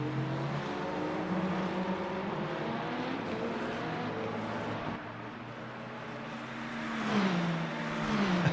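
A Porsche Penske race car in the Le Mans Ultimate game at Imola, heard onboard as a steady engine drone that shifts pitch through gear changes and swells into a rising rev near the end, with no talk over it.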